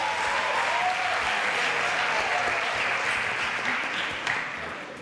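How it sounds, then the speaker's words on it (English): A studio audience breaks into applause, many hands clapping in a dense, steady burst that holds for several seconds before tapering off near the end. "A round of applause for yourself."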